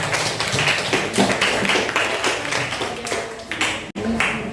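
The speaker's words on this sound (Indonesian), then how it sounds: "tepuk tangan untuk semuanya" Students in a flipped classroom lesson clap for everyone in a brisk, close burst of hand claps that runs the whole time, briefly cutting out near the end before resuming.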